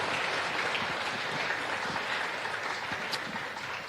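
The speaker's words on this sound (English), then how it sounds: "A round of applause to Governor Besley." A seminar audience applauds Governor Besley at an international seminar on science, innovation and development, a steady, dense wash of clapping that holds level for several seconds with no voices over it.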